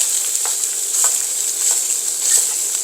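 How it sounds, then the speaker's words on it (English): Sausage browns in a hot pan with a steady, loud sizzle and crackle, while a firm spatula scrapes and breaks it up in a few soft strokes; no one speaks. "So I'm going to just break up the sausage as it browns."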